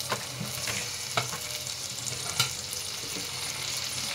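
Lotka dried fish fries in a pan while being stirred, a close constant sizzle broken by periodic scraping and clinking strokes of the spatula.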